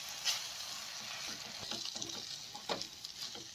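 Schezwan fried rice stir-fried in a pan gives a steady soft sizzle, with scattered scraping and tossing clicks from the stirring, close and moderately quiet with no talk.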